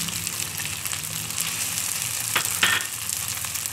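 Finely chopped tomatoes and green chillies frying in a pan, a steady, close sizzle with a bright crackle and a brief stirring scrape midway, no talk.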